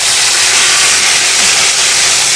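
Tomato puree hitting hot oil with reddened garlic and melted sugar, giving a loud, steady, dense sizzle that holds unbroken throughout, close up with no talk.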